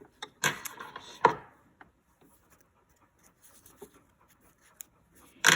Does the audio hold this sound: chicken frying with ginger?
no